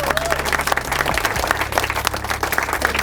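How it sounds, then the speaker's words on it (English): Wedding guests at a waterside venue clap loudly for the bridesmaids and groomsmen, a close, continuous burst of applause with a few brief voices mixed in. "Guys, give them a round of applause."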